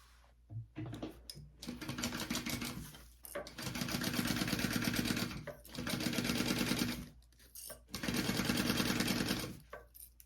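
A home sewing machine bastes a zipper pocket onto a tote bag, running in three long, steady rattling bursts with short pauses between them, close and fairly loud.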